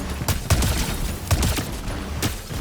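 Gunfire in the video game Fortnite, four or five sharp shots spaced irregularly about half a second to a second apart over low background game noise, moderately loud with no talking.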